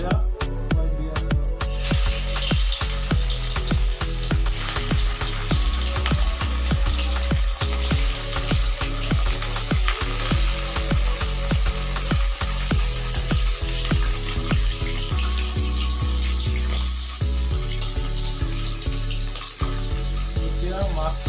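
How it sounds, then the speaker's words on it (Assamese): Bhangon fish fries in hot oil in a home kitchen, giving a loud, steady, crackling sizzle that runs unbroken throughout, with occasional clinks and bubbling bursts. "এতিয়া মাছখন ধুনীয়াকৈ ভাজিব লাগিব।"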